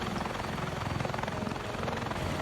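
Helicopter lifting off in a video game, with a close, loud, steady rotor thump pulsing rapidly throughout and no talk over it.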